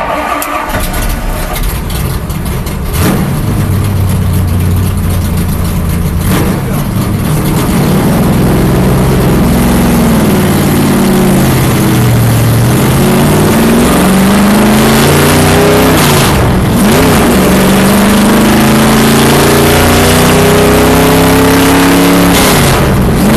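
A race car engine at the Daytona driving experience starts up and revs loudly from start to finish, its pitch climbing and falling through repeated accelerations, steady and close.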